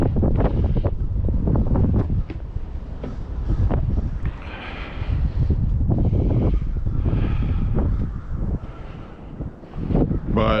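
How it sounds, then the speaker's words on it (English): Strong wind buffets the microphone outdoors at a city park near a mill dam, producing loud, continuous low rumbling gusts that rise and fall throughout with no talk. "I hope you're not hearing the wind too loud"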